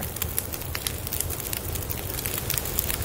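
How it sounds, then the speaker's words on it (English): A campfire being lit in the survival video game The Long Dark, giving a steady crackling hiss with faint pops and windy noise throughout, no talking. "let's light a fire. Get warm."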